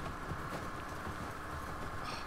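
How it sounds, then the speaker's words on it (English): Horse hooves clip-clop in the video game The Last of Us Part II, a quick repeated pattern of hoof beats over a low steady background hum. "Look at the horses."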